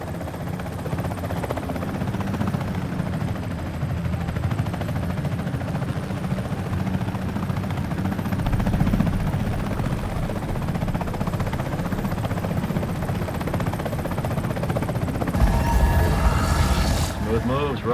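A Comanche helicopter's rotor from the Comanche video game makes a steady, loud, whirring thump throughout, with engine drone underneath and a voice speaking over it.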